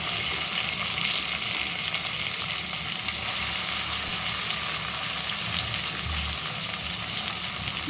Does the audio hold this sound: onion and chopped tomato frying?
yes